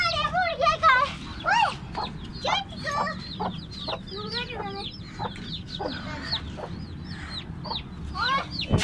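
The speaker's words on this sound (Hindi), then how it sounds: "पिछड़ा मुर्गी बाहर आ रही है।" Several chickens cluck and squawk close by in a busy, irregular chorus while being moved into an animal cage, with a low rumble of background noise underneath.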